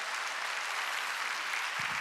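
Church congregation applauding during an Easter Sunday service, an even, sustained patter of many hands clapping at moderate distance, with a low thump near the end.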